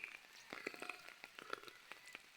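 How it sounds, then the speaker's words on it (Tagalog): Light rain falling on open farm fields in the countryside, a faint steady patter with scattered soft drops tapping close by, no voices. "Kasi unting-unting pumapatak na yung ulan"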